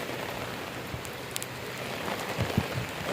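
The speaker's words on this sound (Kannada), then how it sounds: "ಮಳೆ ಜೋರಾಯಿತು" Heavy rain comes down outside a house in a steady, dense hiss, with a few closer drips and splats landing on a nearby surface.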